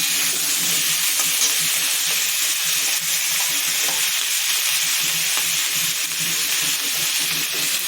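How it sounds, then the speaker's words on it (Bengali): Potato pieces frying in hot oil in a pan give a loud, continuous close sizzle with crackling and occasional stirring throughout. "আলুটা ভেজে নেব।"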